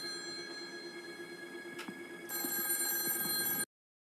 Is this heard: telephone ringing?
yes